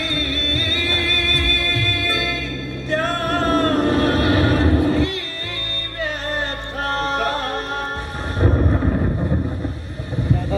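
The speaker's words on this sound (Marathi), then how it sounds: "बैलाचा आवाज" A bull's call in a Zadipatti village stage play rises as a long, loud bellowing cry over reverberant stage noise and music, stretched and wavering across the whole stretch.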